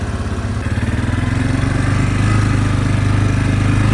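A cheap four-wheeler ATV engine runs with its carburetor turned way up, a steady close mid-pitched buzzing drone that swells slightly in loudness after the first half second and holds without voices.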